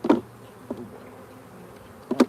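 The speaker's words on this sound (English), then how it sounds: "The bees can get very agitated." Agitated honeybees in a bee yard during a live hive inspection give short, close buzzing bursts at the start and end, with a faint hum in between.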